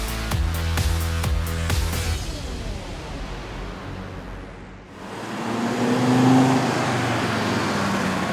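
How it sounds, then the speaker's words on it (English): A solar car drives past outdoors, a steady broadband road and motor rush that swells and fades in loudness, preceded by a short burst of rhythmic tonal music. "which is the solar car"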